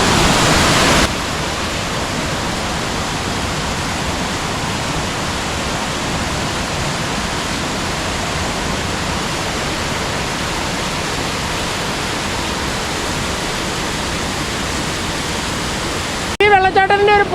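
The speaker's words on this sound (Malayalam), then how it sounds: "ഈ വെള്ളച്ചാട്ടത്തിൻ്റെ ഒരു പ്രത്യേകത, മോളിൽ നിന്ന് ഇങ്ങനെ നിരന്ന വെള്ളം ഒഴുകുന്നത്." Pampanal waterfall in Kerala spreads water down in a wide sheet, producing a loud, steady roar of rushing water that holds unbroken throughout, with a brief knock at the very end.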